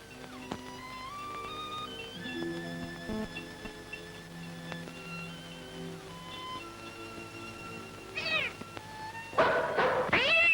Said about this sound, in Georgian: მომაშორეთ ეს ქეციანი კატა.